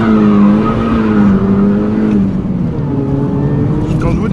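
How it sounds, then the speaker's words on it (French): A front-wheel-drive car with traction control switched off, its engine accelerating hard and loud close by, revs climbing then dipping with a hint of tire squeal. "Quand je vous dis que le moteur il a la pêche, c'est pas pour déconner hein."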